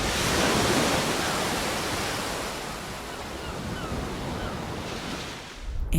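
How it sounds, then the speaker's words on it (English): Ocean waves breaking on the shore, a steady broad roar of surf that swells loudly at first and rolls on continuously, with no voices. "Now this is how ocean waves sound here on Earth."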